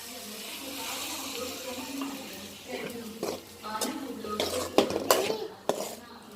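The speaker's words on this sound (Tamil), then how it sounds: "இப்போ நம்ம 1/2 டம்ளர் அளவுக்கு தண்ணி விட்டுக்கலாம்" Water is poured into a pan of tomato-based potato curry cooking on the stove. Faint pouring and splashing build up with a few clinks of a pot or utensil. The sound is quiet and close, with no talking.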